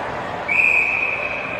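A referee's whistle at a youth ice hockey game gives one sustained, piercing blast of over a second, loud and close, over steady rink noise.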